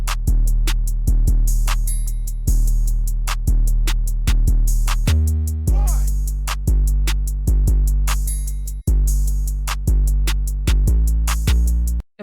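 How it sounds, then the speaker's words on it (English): A trap drum pattern built in FL Studio, all parts playing together: deep booming 808 kicks under a fast, steady hi-hat roll and regular snare hits, loud and continuous with no voices. "The drums, this is what they're gonna sound like all together."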